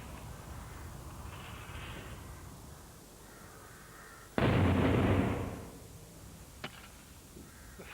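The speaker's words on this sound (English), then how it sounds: "we'll see what effect the explosion has on it" A stick of dynamite set off by a detonator on a thick plastic witness plate outdoors gives one sudden loud blast that roars for about a second and then fades into quiet background ambience.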